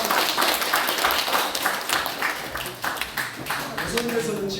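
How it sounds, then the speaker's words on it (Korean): Members of a church congregation clap in scattered, uneven bursts while people talk over and around the applause, with voices often as prominent as the clapping. "자, 박수 쳐주세요."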